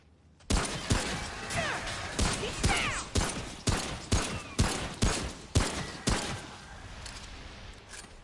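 Pistol fire in the video game Remnant: From the Ashes, with about a dozen sharp, loud shots fired in a fairly steady rhythm over several seconds, each shot ringing out briefly before the next.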